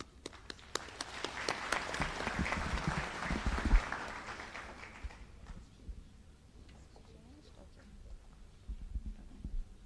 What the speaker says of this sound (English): Please join me in applause as I welcome him to perform the national song